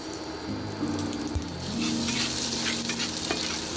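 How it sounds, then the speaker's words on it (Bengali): Chilies and black cumin sizzle in hot oil in a pan, crackling steadily and close, then frying louder as more goes in, with faint stirring. "লঙ্কাগুলো আমি ভাজতে দিলাম।"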